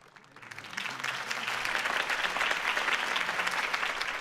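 Crowd applause in the Batman Telltale video game, swelling from a quiet start into steady, dense clapping from a large gathering that holds for several seconds, with no speech over it.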